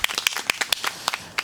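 A small audience at an evening village community radio-style event claps briefly, a short run of distinct, uneven hand claps close by.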